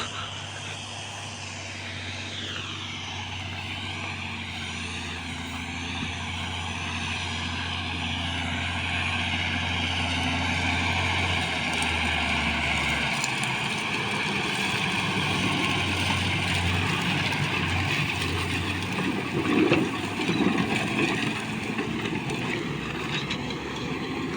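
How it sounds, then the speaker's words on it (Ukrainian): A John Deere 6330 tractor pulling a 3.5 m disc harrow across a field at about 15 km/h gives a steady engine drone with shifting harmonic tones and a continuous mechanical rumble, close and fairly loud throughout. "Їде трактор 15 км на годину з тою дисковою."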